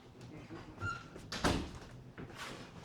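A front door being answered and opened indoors during a stage play, a mid-distance thunk and rattle of the door with footsteps and faint room noise around it.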